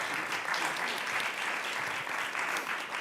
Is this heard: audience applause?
yes